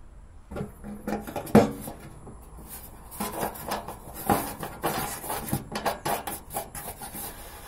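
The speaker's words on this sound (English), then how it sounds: "So these are the legs which I am going to connect to the stove's body." Metal legs being fitted onto the body of a portable single-burner camping stove, with a series of close scraping, rubbing and clicking sounds of metal parts pushed into place, irregular and without speech.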